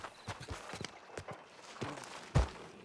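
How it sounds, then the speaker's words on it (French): A horse-drawn cart moves along with hooves clip-clopping in an uneven series of clear strikes, ending with one louder, heavier thud near the close. "Qu'est-ce que c'est que cette charrette?"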